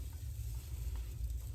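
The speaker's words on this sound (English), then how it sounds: "Listen to that sizzle." Batter sizzles faintly and steadily in a hot pan, a soft continuous crackle over a low hum, heard alone without talk.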